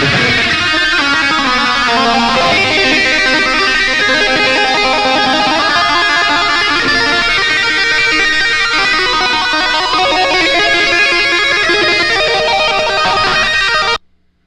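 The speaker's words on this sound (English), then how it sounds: "there would be a natural delay and echo, which would create a chorusing effect" Electric guitar hammer-on passage with natural room delay and echo that smears the notes into a thick, chorused, multi-tracked shimmer, loud and continuous for about fourteen seconds before stopping abruptly.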